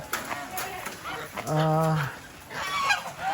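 Large farm geese, including a brown one, honk loudly nearby at feeding time in heavy rain, in repeated nasal calls, with someone talking in between.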